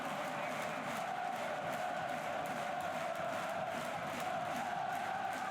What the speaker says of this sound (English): Fatawu takes the applause of the King Power Stadium